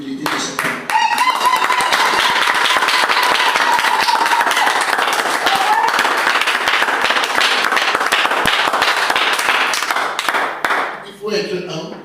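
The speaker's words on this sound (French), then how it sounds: "je voudrais ici que vous acclamiez pour l'humilité de cette parole" Congregation in a church clapping and cheering loudly and steadily for about ten seconds, a dense crowd applause with a sustained voice or cry running through the middle, fading briefly near the end.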